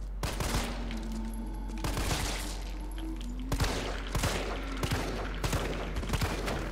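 Gunshots from the video game Resident Evil 3 Remake: several loud, sharp firearm blasts spaced about a second apart, each with a short echoing tail over a low ambient hum.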